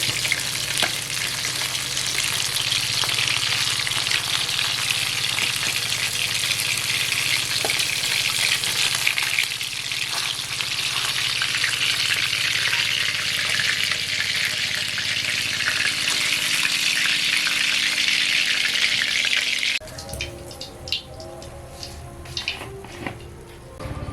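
Bhola sea fish fries in oil in a pan with a loud, continuous crackling sizzle for about twenty seconds, then drops to quieter scattered clatter and bubbling.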